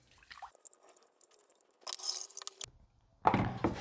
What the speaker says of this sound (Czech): Opět lehce propláchnu takto.